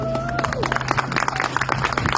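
An audience applauds a speech by Steve Murray of Stop the Stink at the Better World Festival, with dense, continuous clapping and crowd noise alongside a steady hum and a faint tonal sweep.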